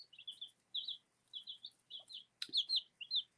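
A Leghorn chick bought from a farm store peeps repeatedly in quick high-pitched bursts, close and clear, with brief pauses between calls and a single soft thump.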